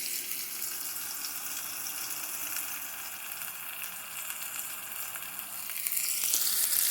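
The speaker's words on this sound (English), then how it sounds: "I'm going to skillet these things up to they're brown on both sides" Food browns in a hot skillet with a continuous, close sizzling hiss that grows a little louder near the end, and no talking.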